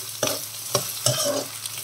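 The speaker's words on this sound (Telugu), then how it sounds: "మూత పెట్టుకుని ఒక 2 నిమిషాలు ఫ్రై చేసుకుందామండి" Potatoes and carrots with curry leaves fry in a covered pan, giving a steady close sizzle broken by three distinct scraping stirs.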